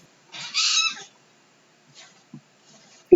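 A cat lets out one clear, moderately loud meow, followed by a few faint, scattered small noises in otherwise quiet surroundings.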